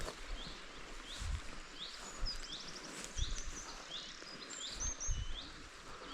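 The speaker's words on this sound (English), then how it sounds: "Listen to the birds singing." Birds chirp and whistle in a forest at morning, short rising calls repeating from several directions, fairly distant and soft over a quiet bed of rustling with a few low thumps.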